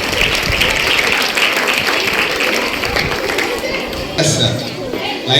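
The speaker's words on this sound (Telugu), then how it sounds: "డాన్స్ ని ప్రతి ఒక్కరు చప్పట్లు కొట్టవలసిందిగా కోరుకోవడం జరుగుతుంది" A school audience applauds a student dance performance at a Saraswati Puja event, with dense continuous clapping and crowd chatter at a loud, steady level, and an announcer's voice heard over it.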